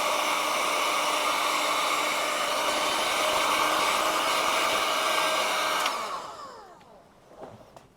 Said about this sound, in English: Okay, now I'll shrink it together with a heat gun.